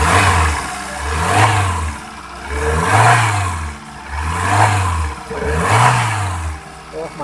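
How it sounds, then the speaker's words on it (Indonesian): A Kia Picanto engine, fitted with new spark plug cables, revs up and down smoothly in a steady repeating cycle, loud and close, with no misfiring. "ini kalau salah pasang kabel businya itu bakalan ledak-leduk tuh suaranya, nggak kayak gini nih, mulus kayak gini"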